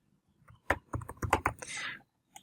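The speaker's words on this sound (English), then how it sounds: "and I type some kind of graphics animations" Quick bursts of keystrokes on a computer keyboard while entering text into an online resume generator, close and quiet, lasting about a second and a half before stopping.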